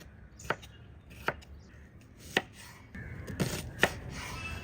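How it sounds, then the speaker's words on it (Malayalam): A knife cuts through red capsicum on a cutting board, giving five sharp, distinct chops at uneven intervals against a quiet background. "റെഡ് ക്യാപ്സിക്കം എടുത്തിട്ടുണ്ട്. ഇത് നമുക്ക് അതുപോലെ ഒന്ന് കട്ട് ചെയ്തെടുക്കാം"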